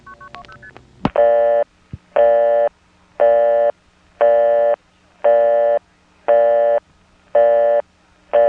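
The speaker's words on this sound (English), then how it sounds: "it was something that the TSD flashed asking for my number and then gave me the busy tone" Busy tone from an NX1 telephone exchange, a steady tone cut into regular on-off pulses of about half a second, eight repeats, preceded by a short burst of dialing tones and clicks.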